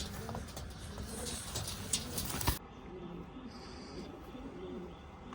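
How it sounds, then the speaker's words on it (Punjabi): A pigeon coos softly in low, rolling phrases after a burst of rustling noise, with faint background hiss. "ਆ ਕਬੂਤਰ ਵੀ ਦੇਖ ਲਓ"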